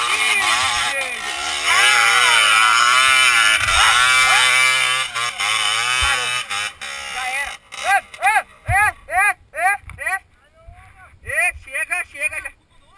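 A white DT 180 trail motorcycle revs hard on a dirt trail, its two-stroke engine screaming loudly at first, then breaking into sharp repeated throttle blips as it passes, with excited voices shouting over it.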